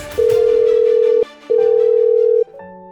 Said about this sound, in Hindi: सौरभांकर बाथरूम से निकलकर कमरे में आता है और नेहा को फोन लगाता है।